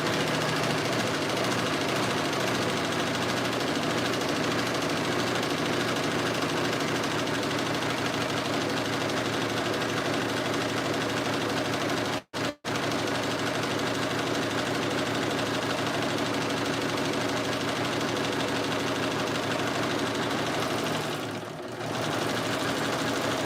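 A sewing machine stitches Mar pants in a steady, continuous rhythmic whir, nearly uninterrupted apart from one very brief pause and a slight dip toward the end.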